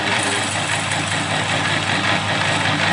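A metal lathe facing the end of a brass ornamental flask gives a steady, dense mechanical whir and motor drone that stays unbroken and fairly loud for about three seconds, with no talking.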